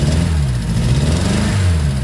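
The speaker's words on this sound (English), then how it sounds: "If I give it some throttle" A Fiat 850 Spider's small engine runs steadily with throttle applied, a close, continuous mid-pitched engine drone that rises and dips slightly as the revs change.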